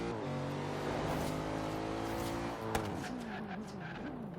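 A widebody Lexus RC F drift build in Forza Horizon 3 revs and breaks traction, its engine note climbing in harmonic sweeps before a short tire squeal and a sharp bump, loud and close with no talking.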